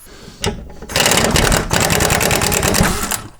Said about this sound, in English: So I'll start off with the big 18mm bolt that holds the shock on.